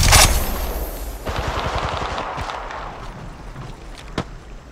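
Rapid gunfire bursts from the battle royale game Apex Legends Mobile on the Kings Canyon map, a dense loud volley at first, then scattered shots and one sharp crack near the end.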